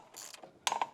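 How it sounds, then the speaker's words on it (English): A puller tool presses a pulley off a power steering pump, giving a quick, close series of ratcheting mechanical clicks and grinding ticks in two short bursts, with no talk. "The couple turns will press this pulley off, and just take your time here."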